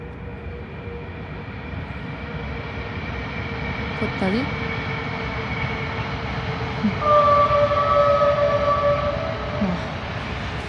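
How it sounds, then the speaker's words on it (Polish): A train rumbles past at a distance beside an abandoned railway worker's house, a steady low roar with a brief horn-like tone partway through and a person speaking briefly. "O, słychać pociąg."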